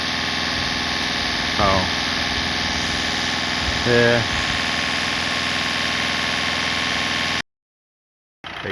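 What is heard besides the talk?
Volkswagen Golf Mk6 engine running during hydrogen carbon clean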